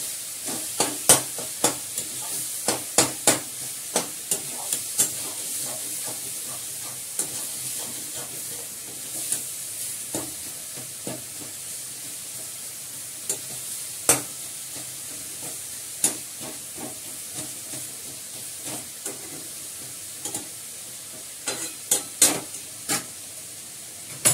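Turmeric and spices fry lightly in a pan with a soft, steady sizzle, punctuated by sharp clinks and scrapes of a spoon stirring at irregular intervals, close and moderately quiet.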